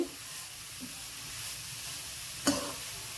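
Carrot frying in ghee for carrot halwa gives a soft, steady sizzle and hiss, quiet and close, with one brief clink of a utensil.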